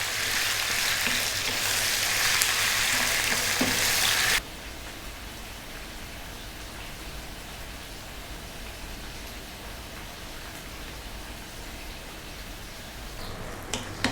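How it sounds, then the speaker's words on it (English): Beef frying over medium heat for a masala curry, a dense hiss of sizzling that is loud for the first few seconds and then settles into a quieter, steady crackle. "So we're on a medium heat, not too high, and we're going to go for 6 or 7 minutes."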